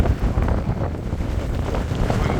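Strong headwind roaring across a cyclist's microphone while riding, a loud, steady buffeting rush with low rumbling gusts throughout.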